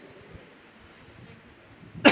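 A woman with a throat infection coughs once, loud and close, right at the end after a stretch of quiet room hiss.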